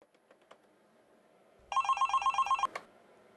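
A telephone rings at a health clinic, one electronic trilling burst of rapid pulses that stands out clearly against a quiet background.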